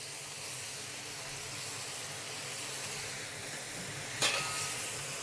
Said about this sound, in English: Now I'm adding my leafy vegetable,